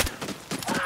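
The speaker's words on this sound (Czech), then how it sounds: "Jarina, to střílí z toho baráku." Gunfire from the video game Battlefield, fired from inside a building: a short, dense burst of rapid shots with several sharp transients in under a second, moderately loud and without speech.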